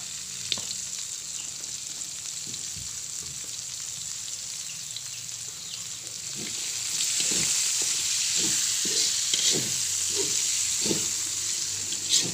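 Rice vermicelli frying in a pan with scallions and carrots gives a steady bright sizzle, with irregular scraping stirs that grow more frequent and slightly louder in the second half.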